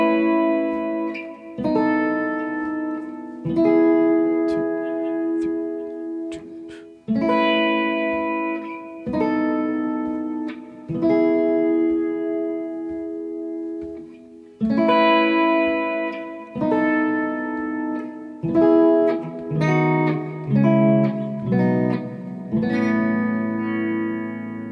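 Guitar strumming the chorus of a song, with effects and reverb on the tone, playing a series of ringing chords in clear bar-length groups, loud and alone without any talking.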